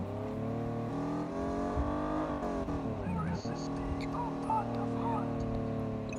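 A BMW's engine drones at high speed in a 3-D driving simulator game, its steady tone wavering as it accelerates and corners, with a person talking over it throughout.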